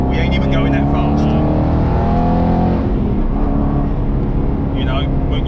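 An Aston Martin Vantage GT8 driving on a road, its engine note loud and constant with layered harmonic drone and a rising and falling pitch, heard from inside the car.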